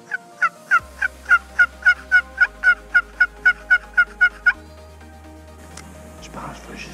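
Wild turkey gobbling during a turkey hunt, a rapid run of about fifteen evenly spaced loud gobble notes over a few seconds, fairly near, followed by low rumbling outdoor noise.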